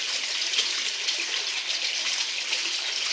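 Water rushing steadily against a flood barrier panel fitted across a door, a continuous hissing gush that stays even and fairly close throughout, with no voices.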